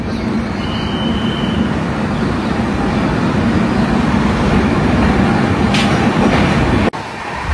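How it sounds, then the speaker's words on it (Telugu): Tirumala Express pulling out of Duvvada station, a steady loud rumble of the moving train with continuous rolling noise heard from inside a carriage, and a sharp knock near the end. "దువ్వాడ నుండి అయితే మన ట్రైన్ స్టార్ట్ అయిపోయింది"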